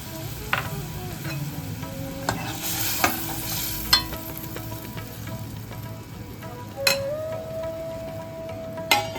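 Milk poured into ridge gourd cooking in a pan with poppy seed paste, a soft bubbling sizzle with occasional utensil clinks and scrapes, close and moderate in level, no talking.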